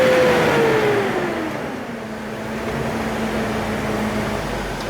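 A BMW X5 from around 2004–2006, in fresh condition, revs steadily up close, its engine tone sliding down then holding a level hum with broad rumble, no talk over it.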